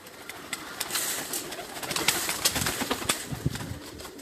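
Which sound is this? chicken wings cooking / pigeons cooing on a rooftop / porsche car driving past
pigeons cooing on a rooftop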